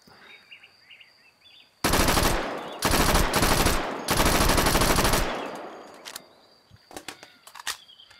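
Loud automatic gunfire in the VR shooter H3MP, several long bursts with short gaps close to the listener, then fading into sparse distant pops and small bird chirps.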